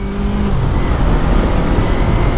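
Yamaha R3 motorcycle fitted with an aftermarket Akrapovic exhaust, loud and close, a dense steady engine roar running continuously throughout, with a brief falling tone near the start.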